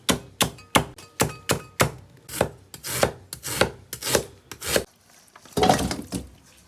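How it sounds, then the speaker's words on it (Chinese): A kitchen knife chops scallion and ginger on a cutting board in a quick run of sharp, close thunks. The strikes slow into a few spaced cuts before a final scraping sweep. "葱姜切一下"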